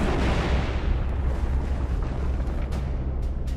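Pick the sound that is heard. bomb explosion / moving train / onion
bomb explosion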